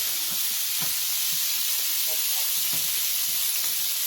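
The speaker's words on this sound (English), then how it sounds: "It's searing up real nice." Lamb chops searing in a hot pan give a steady, loud hiss of sizzling fat throughout, with small pops and crackles scattered through it.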